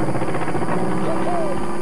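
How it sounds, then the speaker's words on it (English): A little cartoon aeroplane drones past with a buzzing propeller-like whirr and a rising whistling tone, fairly loud and brief. "Don't worry, Swallow, came a voice from a little aeroplane. You can fly in this"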